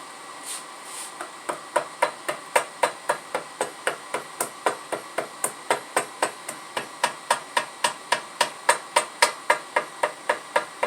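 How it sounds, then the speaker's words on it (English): A small ball peen hammer taps metal around a hole in a turbo manifold in a steady, even rhythm, dozens of light ringing strikes close up with no talking. "So now we're going to take a hammer. Preferably a ball peen hammer like that."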